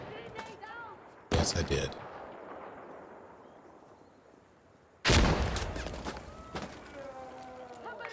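In Insurgency: Sandstorm, a frag grenade is thrown and bursts in two loud, sharp blasts a few seconds apart, each leaving a rumbling tail, with a brief spoken reply near the start.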